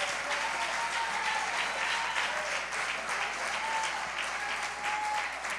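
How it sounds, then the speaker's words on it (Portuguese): A church congregation applauds in a dense, sustained wash of clapping that fills the room evenly and stays steady from start to finish. "Você pode aplaudir o Senhor."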